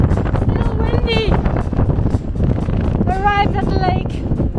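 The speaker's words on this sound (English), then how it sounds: "Still windy!" Strong wind buffeting the microphone in a loud, continuous rush on a mountain hike near a lake in northern Greece, with voices briefly audible through it.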